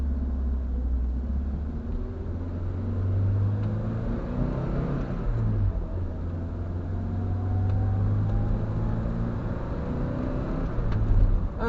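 A 1980 Triumph TR7 engine ticks over at just under 1,000 RPM, a steady low rumble that holds throughout with slight swells, and passing traffic faintly behind it.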